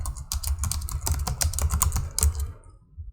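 Rapid typing on a computer keyboard while entering a short question into a chat app, a dense run of close, crisp key clicks that stops abruptly near the end.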